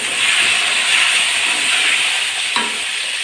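Washed, cut potatoes hitting hot oil with dried red chilies and bay leaves, a loud, steady close sizzle and hiss that carries on evenly with a brief stir near the end.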